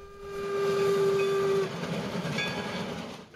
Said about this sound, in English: the 440 hauled a mixed train on numerous run-bys in the scenic and historic region